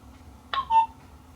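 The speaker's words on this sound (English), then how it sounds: "the camera has now given me that notification tone" A Vacos outdoor security camera gives a short electronic notification tone: a quick blip followed by a brief higher chime, faint against a quiet room.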